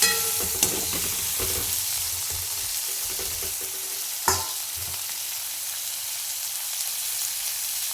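Spices with turmeric and salt sizzle in oil in a pan for rohu fish curry, a steady hiss broken by scraping spatula strokes and one sharp clank, fading near the end.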